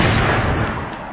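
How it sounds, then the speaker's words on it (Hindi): A loud, single gun blast fired from a rifle barrel, sustained as a dense booming roar across the whole moment, slowly fading. "एक जोरदार धमाका हुआ"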